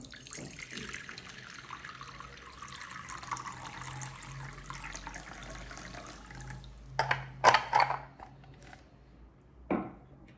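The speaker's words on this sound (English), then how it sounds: "listen to the sound of water." Water runs softly and steadily for several seconds, then splashes and pours more loudly in a few short bursts near the end.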